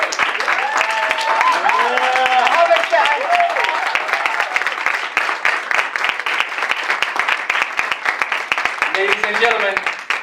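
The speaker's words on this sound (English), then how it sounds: "Give him a round of applause, please." Audience applause fills a poetry and music event, steady and dense, with voices talking and calling over it from start to finish.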